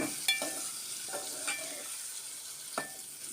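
Vegetables for tiffin sambar fry in a pan with a constant soft hiss of oil, broken by occasional light clinks and scrapes of a stirring spoon.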